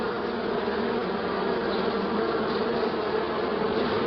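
Honey bees inside an opened hive after smoking, a dense, steady buzzing hum from many insects close by, continuous and unbroken for the whole moment.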